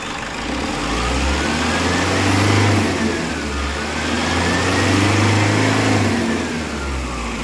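A Toyota Innova engine, freshly overhauled after a seized piston, is revved with the accelerator twice, each rev rising and then falling back over a loud steady idle.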